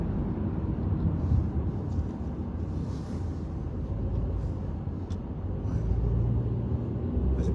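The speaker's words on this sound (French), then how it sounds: "C'est pas possible qu'il y ait autant de voitures" Cars in heavy road traffic make a constant low rumble of passing engines, with faint brake hisses and whooshes mixed in, steady and moderately loud throughout.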